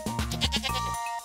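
A goat bleats once in the Stardew Valley farming game, a short, close, wavering cry that breaks off after about a second, with no speech.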